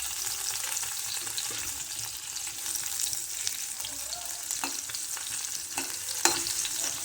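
Garlic and cumin seeds frying in hot oil on a low gas flame, a continuous soft sizzle with occasional stirring clicks and scrapes, moderately close and without talk.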